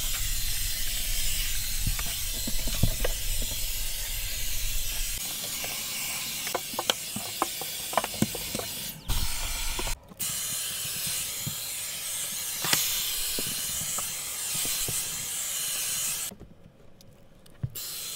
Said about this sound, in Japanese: 小型のダイソンの掃除機になります。